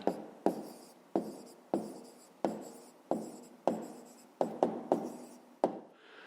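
Handwriting an answer in a fifth-grade geometry exercise on rectangles and squares: a steady run of scratchy pen strokes, close up, about a dozen in quick succession, with no voices.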